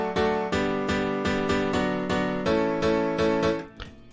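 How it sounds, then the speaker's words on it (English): An EDM piano heavily high-pass filtered, playing a steady run of bright, thin chords struck about every half second, loud and alone, with a short tail at the end. "So the last piano is the EDM piano"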